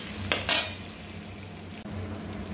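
Curry leaves and turmeric powder sauté in a pan for paruppu urundai kulambu, a steady close sizzle broken by a couple of sharp stirring scrapes near the start and another near the end.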